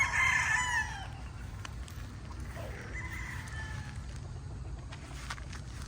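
Chickens at feeding time: a rooster crows loudly at the start, then scattered clucks and soft fowl calls follow over a low, steady background rumble.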